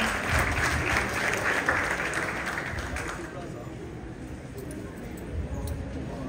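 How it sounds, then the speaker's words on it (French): Audience at a Dakar book event applauding as a prize recipient is called up, a loud burst of clapping that fades to lighter scattered claps, with some voices underneath. "sous vos applaudissements"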